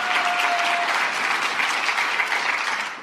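Steady audience applause fills the room at a political event, dense and sustained clapping for the whole stretch with no voices over it.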